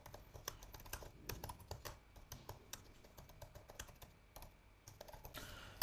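Close, quiet computer keyboard typing while writing code, a steady stream of quick key clicks with irregular bursts and brief pauses.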